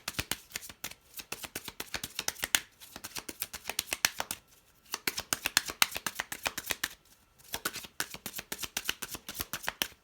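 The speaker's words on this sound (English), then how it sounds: "While I'm shuffling" Tarot cards are shuffled in rapid riffling bursts, a dense crisp flutter repeated several times with short pauses between, close and fairly quiet.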